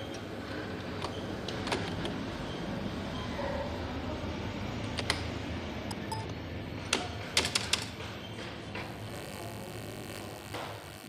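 Typing on a computer keyboard while designing a wedding card in MS Word, heard as a soft, steady patter of key clicks with a few sharper taps near the end, over a constant background hum.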